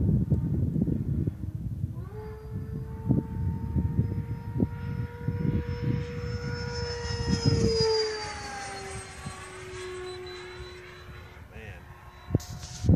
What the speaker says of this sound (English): Jet fans are smooth running.